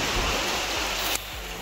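Heavy rain pours at Pratapgad fort, a dense, steady hiss of falling water heard nearby, with no voices.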